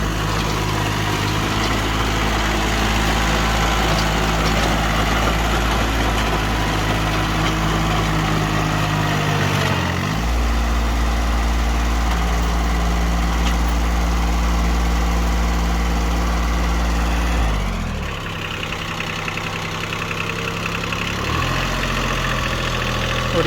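A tractor engine runs steadily with a rotavator fitted, fitted with J-type blades. It gives a continuous loud, low diesel drone with slight pitch dips around the midpoint and again later, and no voices.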